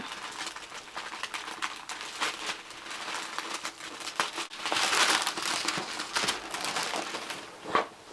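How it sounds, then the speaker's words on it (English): Tissue paper crinkles and rustles as it is pulled out of a Louis Vuitton box, a close, busy crackle that grows louder midway and ends with a sharper crunch. "I'm just going to take the little paper out"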